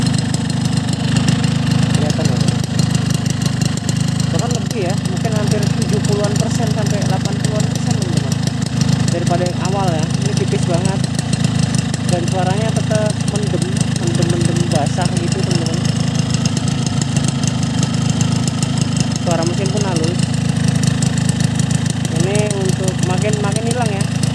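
Hot two-stroke motorcycle engine with an LRF Pro street racing exhaust idling loudly and steadily close by, a continuous buzzing drone while someone talks over it throughout.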